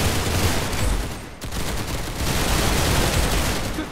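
Gunfire in the Roblox game Arsenal: dense, loud, continuous rattling bursts of rapid shots that fill the whole clip, easing off briefly near the middle and then carrying on, with no voices.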